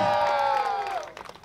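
A small group of people cheers and whoops loudly, voices rising in a sustained shout that tapers off after about a second, just before a champagne bottle is popped.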